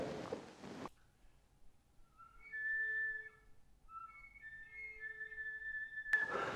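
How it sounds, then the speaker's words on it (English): A flute plays soft whistle tones on A, producing thin, pure, airy tones that waver and shift slightly in pitch, very quiet and sustained over a few seconds between breathy attacks. "So let's take a whistle tone on A."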